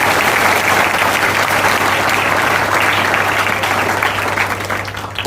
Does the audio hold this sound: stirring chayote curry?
no